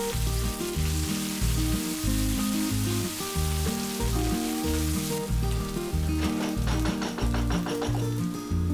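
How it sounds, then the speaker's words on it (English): Onion, green chilies and ginger garlic paste frying for a Punjabi mutton masala, a steady crackling sizzle under a loud rhythmic music bed, with the spattering growing busier toward the end. "Then add 2 green chilies, 1 tablespoon ginger garlic paste and fry it for a minute."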